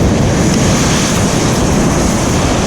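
Sea waves surge and splash against a shore rock at a fishing spot, a loud, dense, continuous wash of water mixed with heavy wind buffeting on the microphone.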